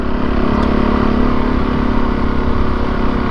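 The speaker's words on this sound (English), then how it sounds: "got the bike started" A dirt bike on a trail, a KLX300 or DRZ400S, runs right after being started following a crash. Its engine holds a loud, close, steady idle with a rough, throbbing note and no voices.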